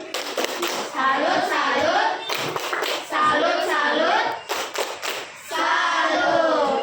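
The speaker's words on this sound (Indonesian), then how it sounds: "Tepuk salut." A school class performs a 'tepuk salut' clapping cheer, rhythmic hand claps in bursts mixed with children's chanting voices, loud and close in a classroom.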